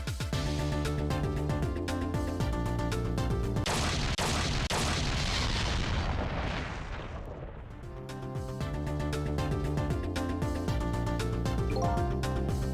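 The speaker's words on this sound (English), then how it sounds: "I think I heard an explosion somewhere" A noisy explosion rumbles in the puzzle game Ghost Trick: Phantom Detective, a long roaring burst over steady game music that fades back in afterward.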